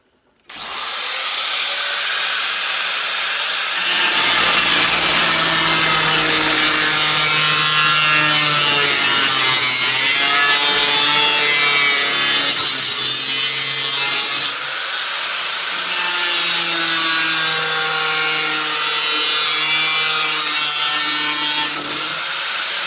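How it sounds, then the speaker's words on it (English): A 4-inch angle grinder with a 1/8-inch cutoff wheel cuts out a rough blade shape, screaming loudly and steadily in long close passes, with two brief drops in pitch and load, and no talking. "I'm going to use a 4-inch angle grinder with a 1/8 inch cutoff wheel."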